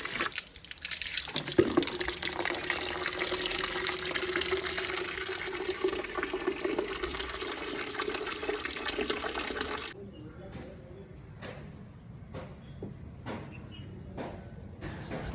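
Water runs steadily while a vehicle is washed outdoors in a village, a continuous gushing spray that stops partway, followed by scattered drips and taps.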